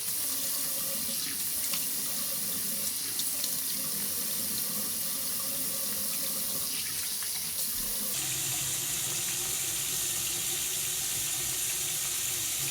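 A tap runs steadily into a sink during a face wash in a skin care routine, a soft, continuous splashing stream with slight shifts as hands move through the water, and no talking.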